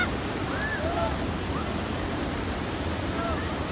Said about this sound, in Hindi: मुझे पता नहीं था कि ये वाटरफॉल वाली जगह है